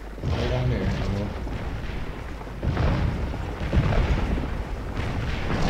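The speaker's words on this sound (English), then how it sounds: "I've never seen these many cannons together" Massed Civil War cannons fire in the Gettysburg battle game Scourge of War, a dense rolling barrage of overlapping booms and thuds that stays loud throughout, with a voice talking underneath.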